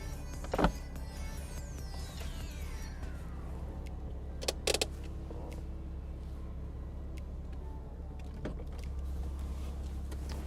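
Porsche Boxster 987 S convertible roof lowering electrically over an idling engine, a steady motor whine with a few clicks and clunks, close and moderately loud.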